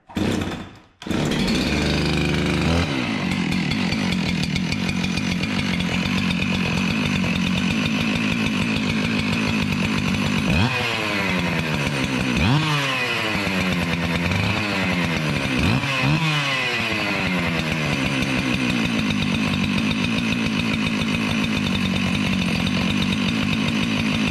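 A rebuilt Husqvarna 372XP X-Torq chainsaw, set to run rich, idles through its break-in after a cold start. A loud, continuous two-stroke drone carries on throughout, with several sharp revs midway and no talking.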